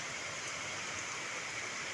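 Steady rain falls on an outdoor spot near a jamun tree, a dense, even hiss that holds unchanged from start to finish with no voices.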